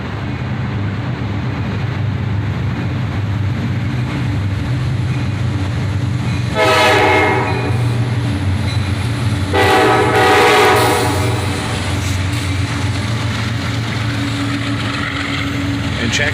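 A CSX SD70MAC locomotive leads a southbound freight train past, with rail noise rumbling loudly and continuously and two long blasts of the horn sounding close by.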